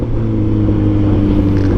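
A Kawasaki ZX14R's large naturally aspirated motorcycle engine revs up close, a deep steady rumbling drone with strong low harmonics that hold and swell slightly, loud and alone without any talk.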